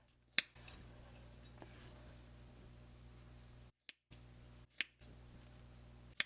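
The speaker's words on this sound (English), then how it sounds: "What we do next is we actually cut through the wraps on each end." Scissors snipping through yarn wraps, a few sharp isolated clicks close by, spaced irregularly over a quiet background.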